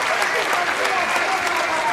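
A Finnish crowd applauds at an M-1 Challenge MMA fight, dense sustained clapping filling the arena, loud and even throughout.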